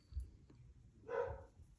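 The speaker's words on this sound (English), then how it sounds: "sorry if you can hear my dogs" Dogs barking in the background of an indoor crochet session, a short burst of a couple of faint barks with low room noise around them.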